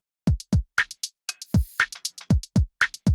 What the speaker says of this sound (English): We've got two different drum loops running.